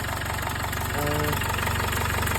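A 2-litre diesel Jaguar XF engine idles steadily up close after a turbo replacement, a dense, constant low rumble with a faint brief tonal whine partway through and no talk.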